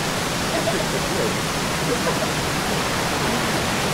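Alaxan Seven Falls, a tall waterfall, pouring as a dense, loud, steady roar of rushing water filling the whole scene, with faint voices buried beneath.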